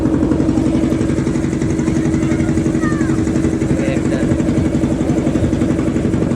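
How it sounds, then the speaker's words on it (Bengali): A small boat engine drones steadily and loudly while the craft crosses a river, a constant close-up mechanical rumble throughout with no pauses. "জলের মধ্যে দিয়ে ছোট্ট নৌকা নিয়ে আমরা যাচ্ছি।"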